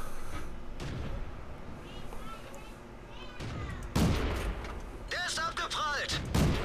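Tank cannon shots in World of Tanks, several heavy booming blasts with crackling impacts, loud and close, spaced a few seconds apart over continuous battle rumble.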